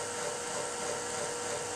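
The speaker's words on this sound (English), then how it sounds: "the vial starts to spin and the powder is drilled away and sprayed up through the central tube here" A PowderPump vial spins while its powder is drilled away and blown up through a central tube by gas flow, giving a steady, faint, high-pitched whirring hiss throughout.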